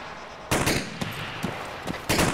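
Gunfire from an ARMA 3 battle, a few sharp bursts at irregular intervals with some distance to them, standing out clearly over a steady background hiss, with no voices.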